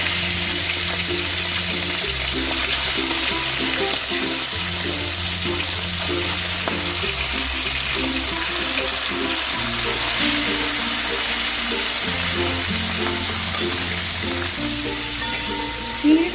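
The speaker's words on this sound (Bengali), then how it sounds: "এবার আমি মাছগুলোকে একটু আড়াছাড়া করে নেবো কয়েক সেকেন্ড" Prawns fry in hot mustard oil for a prawn and potato dish, a steady close sizzle with repeated stirring scrapes, a low background hum running throughout and no voices.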